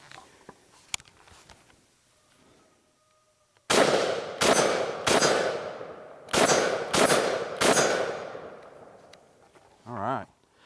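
Rounds from an IWI Tavor X95 rifle crack out in a loud sequence of about seven sharp shots, irregularly spaced with short ringing decays, after quiet handling noises and followed by a brief mechanical rattle.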